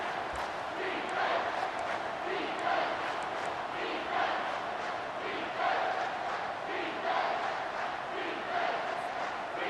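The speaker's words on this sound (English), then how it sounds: "The crowd elevating its energy, willing this defense to get a stop on this big 3rd down." Stadium crowd in College Football 25 roaring during a big third down in a Colorado versus Kansas State game, a loud sustained roar that swells in rhythmic chanting pulses.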